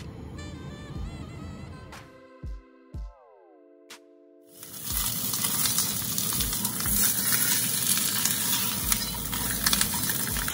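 Guinea fowl searing in its own fat in a pan, a few clunks and tonal hums before a loud, steady sizzle bursts in and continues to the end.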